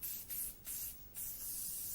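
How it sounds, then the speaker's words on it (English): An aerosol can of Deep Woods Off insect repellent releases several quick hissing bursts in a row, close and loud, each spray broken by short gaps, with no voices present. "Just insert the spray noise here."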